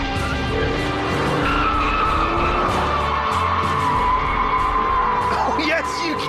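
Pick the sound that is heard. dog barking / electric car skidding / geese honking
electric car skidding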